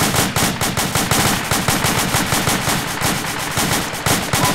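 Machine gun fire in a video game rattles in fast, loud, continuous bursts with steady rhythmic shots and no voices.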